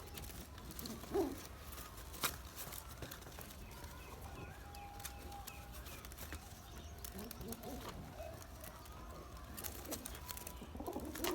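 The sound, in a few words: pigeons cooing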